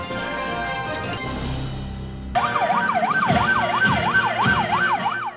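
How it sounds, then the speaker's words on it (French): A loud wailing siren from a brand-new ambulance rises and falls in quick repeated sweeps, with engine and traffic noise beneath, the sweeps starting abruptly partway through. "Quand cette ambulance flambant neuve marque son arrivée dans le Mblancro"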